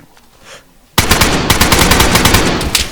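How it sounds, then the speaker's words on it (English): DayZ gunfire breaks out suddenly after a quiet moment, a loud rapid burst of close shots that keeps hammering in quick succession until the end. "He's shooting me through the wall."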